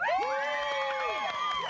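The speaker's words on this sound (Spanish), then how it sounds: "¡Aplausos para el equipo azul!" Children shout and cheer loudly and continuously for the blue team in the studio of a Spanish-language TV variety show. High voices rise and fall together with little break, and only a few claps show through the noise.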